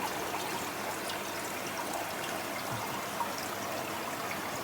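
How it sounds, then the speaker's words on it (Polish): Water tipped from a bucket into a fish aquarium makes a steady, rushing pour that runs unbroken for several seconds, close and fairly loud. "Teraz po prostu muszę tą wodę tutaj wlać do tego akwarium, ile się da z wiadra."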